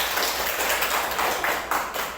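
Audience applause for a presenter at a fieldwork practice session, a steady wash of clapping from a group at moderate distance with no talk over it.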